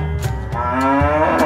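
A cow moos in one long, loud, sustained low call that fills the whole moment, with no voices over it.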